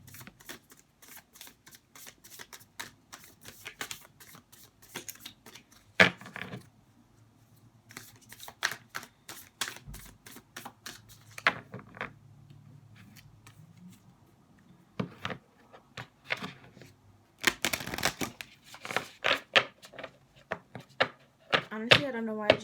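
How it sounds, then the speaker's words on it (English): Tarot cards being shuffled by hand, a long run of quick papery riffles and taps in irregular bursts, close and crisp, with brief pauses between flurries and no talking. "let me just shuffle this real quick so we don't get the same cards"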